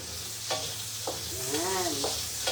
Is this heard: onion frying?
yes